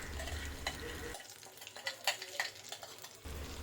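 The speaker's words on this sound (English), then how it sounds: "Be careful as you add the masala paste, the oil starts to bubble" Masala paste hitting hot oil in a steel utensil for prawn pickle, a sudden bubbling sizzle that drops into sputtering pops and scrapes before the sizzle returns, close and fairly faint.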